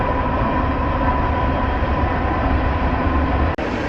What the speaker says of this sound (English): Oh, there's a train going by.